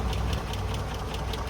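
A 1963 Land Rover Series 2A's 2.25 petrol engine idles close by, a steady low rumble with a fast, even knocking pulse and no voices.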